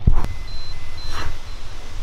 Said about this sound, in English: If you hear that beeping, that is my Geiger counter that's going off.